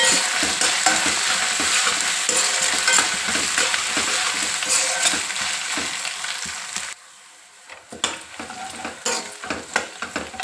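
Ginger garlic paste fries in a pan with a busy sizzle while a spoon stirs and scrapes it in quick strokes, then the hiss drops away, leaving sparse, irregular scraping and knocks.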